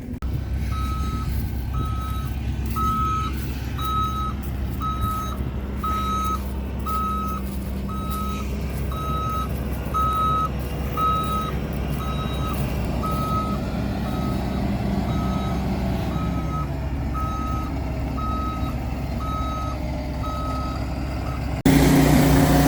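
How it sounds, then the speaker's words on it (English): A grain truck used for fall fertilizer work idles with a low rumble while its reversing alarm beeps steadily in an even rhythm for about twenty seconds, ending in a louder burst. "Start up my grain truck."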